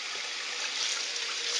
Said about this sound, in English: Pour that out of the pot.